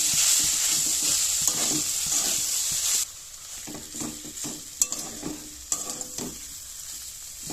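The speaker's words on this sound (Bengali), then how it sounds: "আলুটা দিয়ে আমি ভালোভাবে মিশিয়ে ভাজা ভাজা করে নেব।" Mashed boiled potato is stir-fried into a cauliflower filling. A steady sizzle runs underneath while a spatula scrapes and taps the pan in irregular strokes, loud at first and then quieter.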